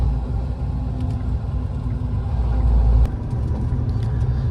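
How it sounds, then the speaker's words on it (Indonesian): Large trucks drive past on a road by Lake Singkarak on the route to Padang, a steady deep engine rumble that swells as one passes close, no talk. "truk besar-besar ini guys."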